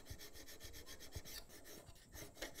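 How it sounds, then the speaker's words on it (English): A bastard-cut hand file rasps across a metal workpiece in quick, regular strokes, a faint, dry scratching rhythm heard close up and alone. "the file only cuts in one direction. In this case, I've got the tang of the file to my left, so pulling it towards me is what does the actual cutting"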